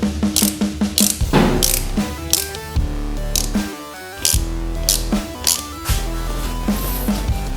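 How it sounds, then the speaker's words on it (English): A hand ratchet loosens bolts on a motorcycle's front end, giving close, loud bursts of rapid pawl clicking in a steady back-and-forth rhythm with a brief pause midway and no talking. "now it's time for me to loosen all those bolts"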